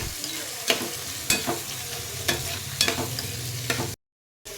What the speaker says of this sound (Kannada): ಗೈಸ್, ಈಗ ಟೊಮೆಟೊ ಫ್ರೈ ಆಗಿದೆ.